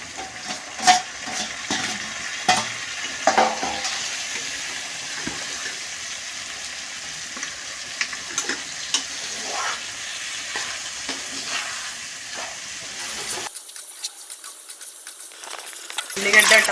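Onions, tomato and green chillies sizzle and fry in a pan for prawn biryani, a steady broadband hiss broken by frequent clinks and scrapes of stirring, close and moderately loud, with the sizzle briefly thinning near the end.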